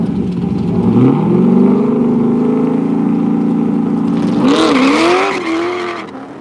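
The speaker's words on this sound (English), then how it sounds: "We are back with the Corvette here in the near lane, and then obviously our Ford over there in the left." A Corvette and a Ford race car accelerating side by side at a drag racing event, loud roaring engines rising in pitch, then a second engine surging and wavering near the end.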